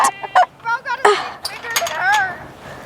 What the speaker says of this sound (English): this is the pen where we have one turkey plus our 5 American breast chickens